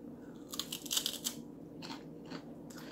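Doritos Blue Grilled Steak chips crunch close up in a few sharp bursts of biting followed by softer chewing crunches, loud and crisp with no talking.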